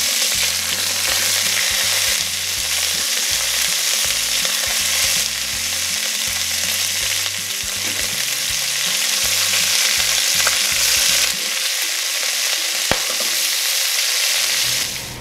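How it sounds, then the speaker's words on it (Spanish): Chicken pieces sear skin-side down in a pot for Peruvian arroz con pollo, a loud, continuous close-up sizzle and crackle of hot fat, with low background music underneath. "Una vez que hemos terminado de sellar el pollo"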